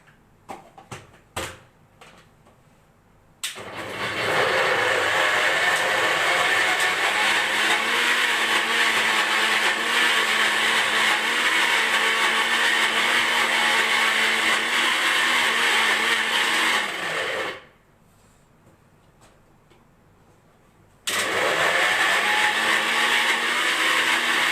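A kitchen blender whirs through a sweet mixture in two long loud bursts, with a short pause between them and a few clunks and handling knocks before it starts.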